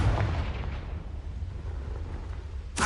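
A Confringo blasting spell from Hogwarts Legacy lands as a deep, rumbling explosive boom that swells at the start and rolls on for a few seconds, with a sharp burst at the very end.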